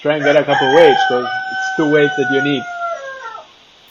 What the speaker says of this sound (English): there's the rooster in the background that truly tells the tale that you're in Tahiti